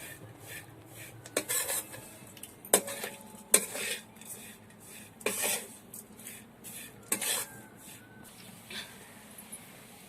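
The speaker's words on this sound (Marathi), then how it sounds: "तर हा शेंगदाण्याचा कुट आता थोडा वेळ गरम करून घेणार आहोत" Crushed peanuts stirred while heating in a pan for sabudana khichdi, with a spoon scraping and clinking against the metal in irregular bursts, close and fairly quiet, with rustling of the grainy mixture between strokes.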